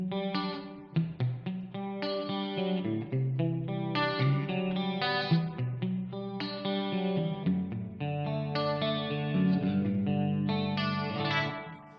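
Guitar played through a Fractal FM3 with a reverb block, sounding distorted and chorused with echoing tails as a melodic phrase of sustained notes plays alone, fairly loud.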